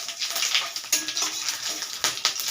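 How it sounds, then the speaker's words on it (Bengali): Cumin seeds, whole garam masala and bay leaf crackle and spit in hot oil, a close bright sizzle with quick pops and a few stirring clinks. "এবারে আমি ওই তেলের মধ্যে ফোড়ন দিয়ে এটাকে বসিয়ে দেব।"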